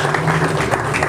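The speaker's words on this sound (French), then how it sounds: "je vais me retourner à ma droite pour justement vous demander d'applaudir Pat les gourous qui est avec nous" Audience applause welcoming the guest Pat le Gourou at a literary reading event, a loud, dense burst of clapping running steadily throughout.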